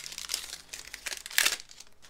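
Foil wrapper of a Pokemon card booster pack crinkling and tearing as it is opened, a close, continuous rustle with a sharper crackle near the end.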